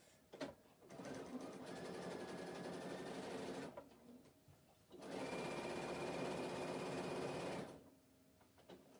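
Sewing machine stitching seams on a lined bag, running in two steady sustained bursts of close, even mechanical whirring separated by a short pause.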